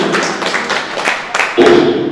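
Audience at a Hindi ghazal and poetry gathering clapping in a short, loose patter of claps lasting about a second and a half, moderately loud, followed by a voice.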